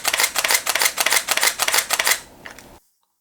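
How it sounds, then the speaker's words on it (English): A Pentax K10D DSLR shutter firing in a rapid continuous burst at about three frames per second, nine crisp clicks in quick succession up close, then a faint trailing whir and silence. "then this camera could do 3 FPS for 9 shots"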